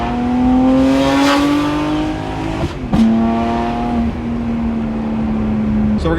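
A BMW G8x M3/M4 inline-six exhaust holds a loud, steady, raw tone with a brief sharp dip and blip midway, running continuously with no talk over it.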